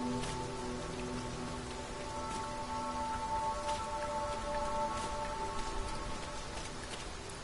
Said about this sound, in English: We must be really down on our luck to get caught out in such a downpour.